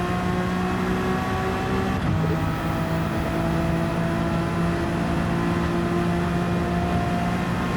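Race car engine in Gran Turismo 7 holding a steady, sustained drone through a corner, with a brief dip and shift in pitch midway as it gets back on the throttle, loud and continuous with no talking.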